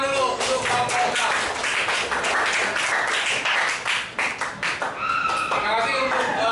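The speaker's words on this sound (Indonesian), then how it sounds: "Tepuk tangan dulu untuk kelompok 6." Students in a classroom clap for group 6, a loud, dense patter of many hands over about six seconds, with voices calling out and chatter mixed in, the clapping thinning slightly near the end.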